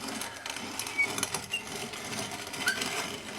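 A hand-cranked grain mill grinds acorns into flour, giving a faint, steady rattling crunch with small irregular clicks, heard close up.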